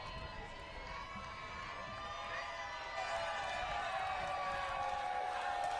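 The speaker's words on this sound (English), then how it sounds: "The crowd is going crazy." A crowd cheers and shouts at an ultimate frisbee tournament, the 2022 World Ultimate Club Championships, a continuous roar of voices from a distance that grows a little louder partway through.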